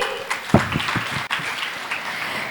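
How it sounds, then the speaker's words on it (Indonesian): Congregation applause at a Christmas worship service in Jayapura, a short burst of clapping from the assembled crowd, moderately loud and steady, fading slightly toward the end. "boleh kita berikan tepuk tangan sekali lagi?"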